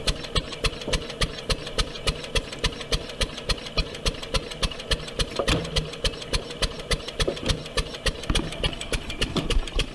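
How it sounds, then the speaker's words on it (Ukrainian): A steady tractor engine idles close by, its regular thumping pulse repeating evenly under a constant mechanical rumble. "Так і бачимо, стоїть трактор."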